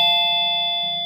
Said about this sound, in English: That's my doorbell going.